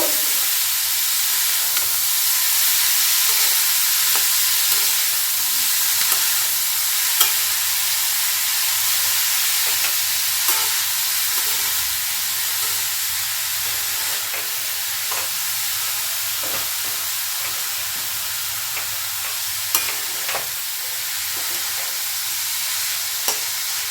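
Cauliflower paratha filling sautés in a pan, a steady soft sizzle and hiss running continuously, with occasional light scrapes and taps from stirring.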